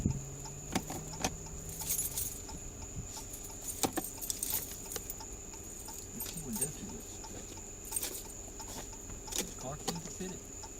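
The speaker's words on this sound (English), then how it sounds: "There's keys right there." Car keys jangle nearby during an arrest, a series of sharp metallic clinks and rattles spread across the stretch amid soft background noise, fairly quiet and close.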